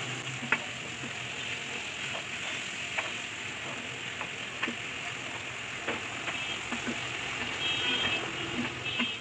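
Hilsa fish frying in oil in a pan gives a steady crackling sizzle punctuated by sharp spitting pops, with the hiss swelling slightly toward the end.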